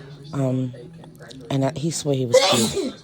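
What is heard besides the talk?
sneeze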